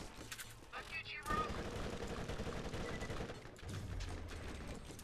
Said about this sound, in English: this SMG has not only an insane fire rate, but an insane reload speed